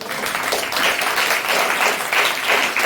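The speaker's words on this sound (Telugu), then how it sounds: "చప్పట్లు కొట్టండి" A church congregation claps together in sustained, dense applause that stays loud and even throughout, with a voice faintly mixed in.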